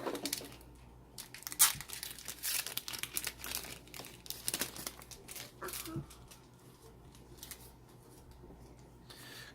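Magic: The Gathering War of the Spark booster pack wrappers crinkle and tear in close, busy bursts of plastic rustling, loudest early on and softening toward the end, with some quiet voice in the background.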